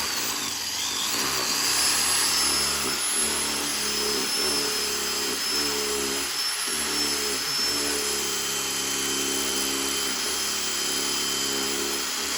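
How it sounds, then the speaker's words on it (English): A power drill bores a hole with a drill bit, running steadily with repeated brief stops and restarts, its motor whine loud and close throughout. "I'm just going to drill down right till it hits that collar."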